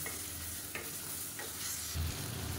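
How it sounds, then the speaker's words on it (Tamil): Sliced tomatoes are sautéed and stirred in hot oil for chicken biryani cooked in a pressure cooker, giving a steady, dense sizzle with a few soft scrapes of stirring, close and unbroken. "இப்போ லேசாக எண்ணெயில் வதக்கி விட்டுக்கலாம்."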